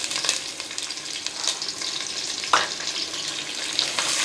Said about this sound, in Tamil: இது நல்லா பொன்னிறமாக வர அளவுக்கு வதக்கிக்கலாம்